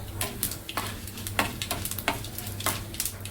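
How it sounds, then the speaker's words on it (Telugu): Tempering spices sizzle steadily in hot oil in a home kitchen, with sharp stirring clicks and scrapes cutting through the continuous frying hiss, close and fairly loud. "పోపు వేగుతుందండి"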